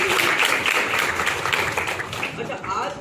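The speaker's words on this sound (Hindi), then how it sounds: "तो पहले तो सब लोग अपने लिए दिल से तालियां बजाओ" Students at a Student's Day school event clap for themselves, a dense patter of hands in a room that runs the full three seconds, mixed with voices talking over it.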